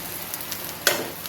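Eggplant slices fry in a pan, a soft continuous sizzle with a few light crackles and one sharper pop partway through, and no talking.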